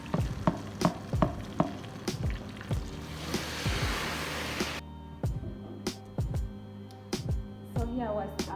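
Potatoes for chicken biryani fry in hot oil, a sizzling hiss broken by sharp clinks and stirring knocks; the sizzle swells, then drops away, leaving scattered taps and clatter.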